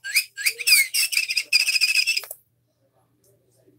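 Flamingo call from a toy drill pen: a run of squawking, honking electronic bird cries in quick repeated bursts, close and bright, ending abruptly into near silence.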